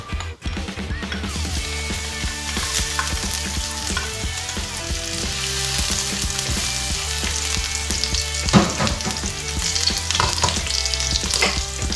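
Chopped garlic frying in hot oil in a pan, a continuous loud sizzle close up with occasional stirring scrapes.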